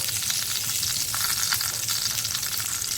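Chopped onion fries in a hot pan, giving a dense, continuous sizzle and crackle that stays loud and even throughout, with no one talking.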